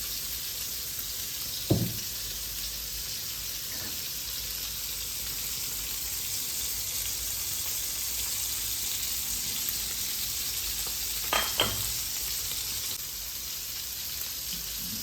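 Oil sizzling in a pan for frying fish: an even, continuous hiss at close range, with a couple of brief clicks from utensils and no voices.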